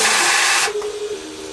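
A person blows a strong, close breath of air across an Atari 800XL circuit board to cool it, a loud rushing hiss lasting about half a second that cuts off sharply, leaving a quiet hum.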